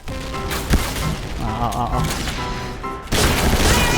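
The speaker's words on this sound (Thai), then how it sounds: "บอกเลยว่าโดนเต็มๆมานัดเดียวแน่นอนครับซองนี้ชัวชัว" Shotgun blasts from the first-person shooter Point Blank sound as a sharp boom early on and another heavy burst near the end, over a steady din of game noise.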